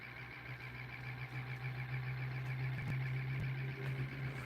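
A pulse motor with a trifilar coil spins up on 12 volts, giving a steady, close electrical hum with a buzzy tone that holds even throughout, with no voices.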